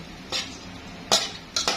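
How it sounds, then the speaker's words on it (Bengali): A spoon scrapes and stirs through pabda fish curry cooking with onion, tomato and a little water in a pan, three short distinct strokes over a faint background hiss. "পানি দিয়ে ভালো করে নাড়িয়ে দেবো"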